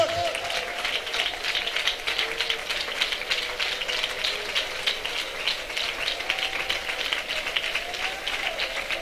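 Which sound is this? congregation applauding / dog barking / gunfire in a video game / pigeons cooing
congregation applauding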